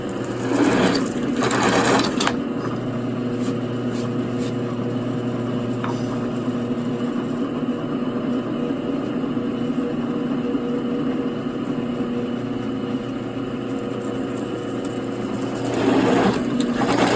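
Power drill cutting notches into a metal guitar pedal enclosure, a steady whirring motor drone held for most of the clip with louder bursts at the start and end.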